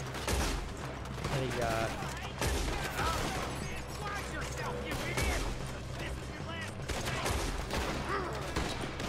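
Gunfire in the Western video game Red Dead Redemption 2 during a gang shootout, with dense, continuous rapid shots and clatter filling the whole stretch, loud and busy, as someone talks briefly over it.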